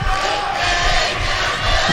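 A loud crowd cheers steadily at a judo Grand Slam event in Osaka, a dense continuous roar of voices from a large cheering section.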